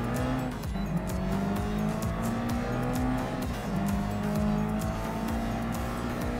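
Race car engine in Gran Turismo Sport, a steady loud drone with shifting pitch and tire squeal during cornering, continuous throughout without speech.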